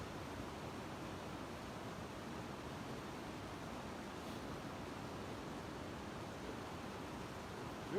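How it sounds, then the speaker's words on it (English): The Truckee River rushes along in a steady, unbroken broadband wash, soft and even throughout with no voices over it. "I hope you can hear me over the river."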